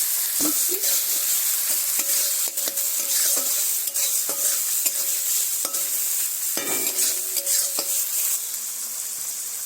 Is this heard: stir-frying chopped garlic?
yes